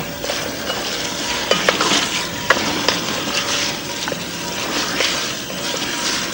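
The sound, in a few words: garlic sweating in pan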